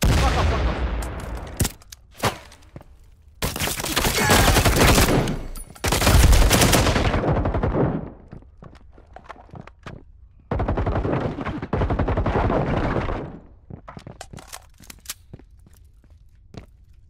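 Rapid bursts of video-game gunfire crackle loud and close in a Friendly Private match, PLUS ULTRA vs Eagle Brazil, with dense automatic volleys broken by brief pauses, scattered single shots and footsteps.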